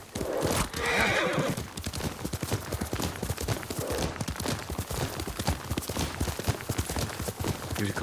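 A horse whinnies loudly at the start, then its hooves clip-clop in a steady rapid rhythm, close and continuous, in the video game Ghost of Tsushima on PS5.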